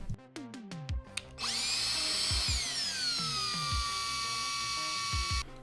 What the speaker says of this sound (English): we're going to get a drill, and we're going to drill into this where the screwdriver is located now